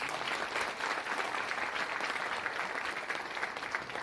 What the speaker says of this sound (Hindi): एक बार अपने आप में ताली बज जाना चाहिए।